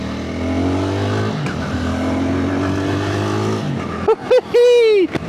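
A 2025 BSA Bantam 350 motorcycle engine at full throttle gives a loud, steady droning hum while riding, then sharp rising whines near the end, with a rider talking over it.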